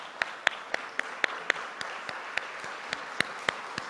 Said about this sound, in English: please stand and give yourselves a round of applause